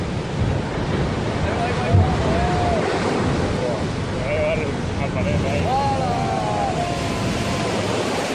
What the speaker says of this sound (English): Have you ever seen waves this massive?